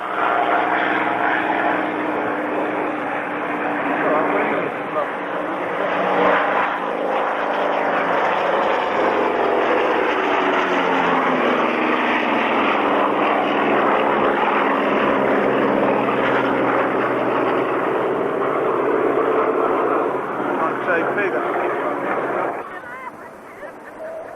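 A Corsair propeller fighter roars past at a classic jets and fighter airshow in 1998, a loud sustained engine drone that swells and shifts in pitch before easing off at the end.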